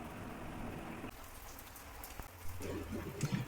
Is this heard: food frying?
no